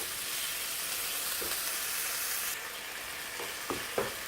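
Minced meat sizzles steadily in a hot pan for a savory potato pie filling, a constant frying hiss with a few sharp scrapes and clacks of a utensil stirring it near the end.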